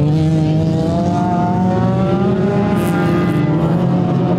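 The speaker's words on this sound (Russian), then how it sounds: "Уже с первых минут моторы взревели как тигры" Race car engines roaring loudly during a survival auto race, several motors droning and climbing in pitch together in a steady, continuous din.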